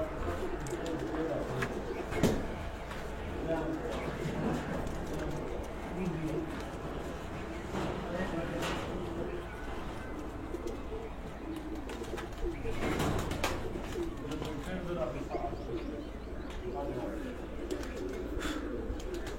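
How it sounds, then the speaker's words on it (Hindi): A Cheena pigeon perched at a loft coos in low, soft repeated phrases over a long stretch, mixed with background chatter and a few sharp knocks and rustles. "दोस्तों इस कबूतर को आप बैठा देखें, ये जो चीना कबूतर है"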